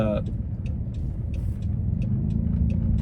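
A car driving along a road past a sewage plant, heard from inside as a loud, steady low road rumble with faint rhythmic ticks above it and a brief voice at the start.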